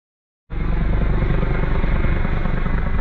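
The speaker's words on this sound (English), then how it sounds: "They're using the chopper tonight. Chopper flying overhead there." A police helicopter flies overhead at night, a steady, loud rotor drone that cuts in suddenly after half a second of silence and holds without a break.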